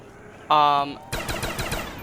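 Rapid automatic fire from the Mnesia gun in a video game, a short tonal burst followed by a quick stuttering string of shots, loud and close.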